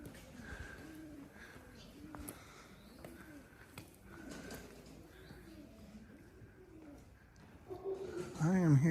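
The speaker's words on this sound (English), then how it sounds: "I am hearing pigeon songs everywhere." Pigeons coo in a soft, repeating rhythm around a quiet hillside town street in Calabria, Italy, faint and steady, with a louder voice or noise rising briefly at the end.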